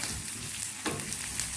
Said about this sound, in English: you get your onions all toasted golden brown in the meanwhile while it is boiling